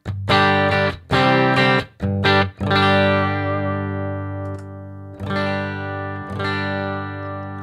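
Electric guitar runs through a Headrush pedalboard with a graphic EQ boost, heard alone and loud: a series of choppy distorted chords gives way to long, sustained ringing chords.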